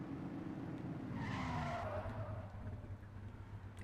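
A Camaro in the video game The Precinct drives fast with its engine roaring, and its tires skid and squeal for a sustained stretch before the engine drone carries on.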